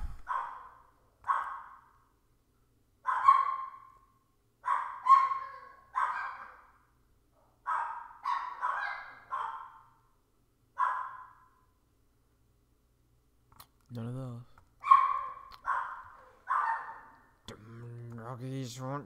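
Several dogs bark in repeated short bursts throughout, loud and close, with brief gaps between volleys; a couple of yelps near the end sound more drawn out.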